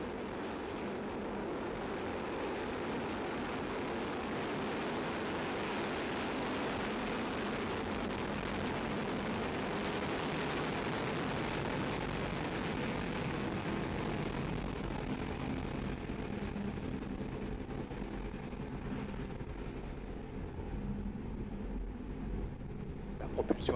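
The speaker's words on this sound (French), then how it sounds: "10, 9, 8, 7, 6, 5, 4, 3, 2, 1. Top. Et décollage." Rocket liftoff after a spoken countdown, a broad sustained roaring rumble heard from a distance that holds steady for over twenty seconds, with a voice speaking over it.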